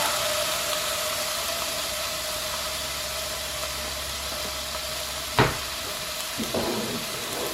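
Lean ground beef frying in olive oil in a very large skillet, a steady broadband sizzle that holds throughout, with a sharp clack near the end and a few softer knocks after it.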